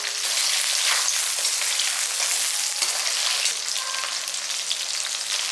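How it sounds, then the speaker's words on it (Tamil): Whole garlic cloves and small shallots frying in oil for vathal kuzhambu, a dense, close, steady sizzle that carries on throughout with no talk. "ஒரு 25லேருந்து 30 வரைக்கும் பூண்டு போட்டுக்கோங்க, ரொம்ப நல்லாயிருக்கும். ரெண்டு கைப்பிடி அளவுக்கு சின்ன வெங்காயம் போட்டுக்கணும்"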